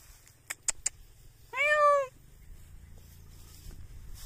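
A cat gives one clear, drawn-out meow outdoors, preceded by a few sharp ticks, then quiet ambient hum.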